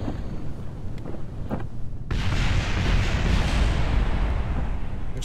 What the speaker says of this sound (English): Explosions. Lots of